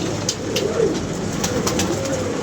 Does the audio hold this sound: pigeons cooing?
yes